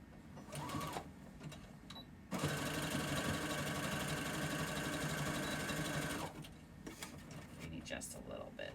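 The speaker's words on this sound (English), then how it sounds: "I will use the serger for the part that's going to actually show" A serger stitches a seam on a custom dress in one sustained, dense mechanical run of rapid stitching lasting several seconds, close and steady, with quieter handling and speech before and after.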